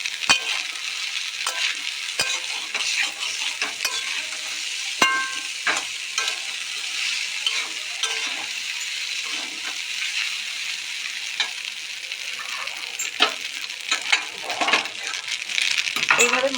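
Pasta is stirred in a pan over a medium flame, with a steady frying hiss and frequent scraping and clinking strokes of the spoon against the pan going on continuously.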